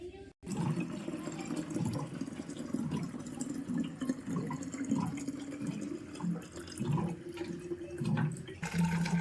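Water runs from a tap to fill several water bottles, a steady, continuous splashing rush that carries on throughout at a moderate, close level.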